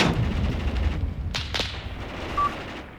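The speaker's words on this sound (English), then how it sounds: "Yep, mortars are getting involved too" A few distant, muffled thumps of mortar fire in the war game Graviteam Tactics, two sharp reports close together over a low rumbling battlefield background.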